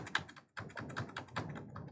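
Computer keyboard keys clicked in quick irregular bursts, close and quiet, with a brief pause before the tapping resumes in a steady clatter.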